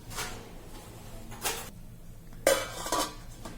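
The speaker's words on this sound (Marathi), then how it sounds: "आता या गाळणीवर आपण झाकण ठेवून घेणार आहोत" A lid is set onto a metal strainer sitting over steam for kothimbir vadi, giving a few separate metallic clinks and scrapes: one near the start, one mid-clip and a louder clatter near the end over a quiet background.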